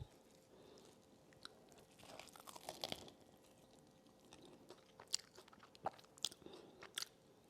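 Crunchy bites and chewing of a ciabatta sandwich filled with barbecue-sauced mushrooms, close to the mic, with crisp crackling bites scattered over steady soft mastication and no talking.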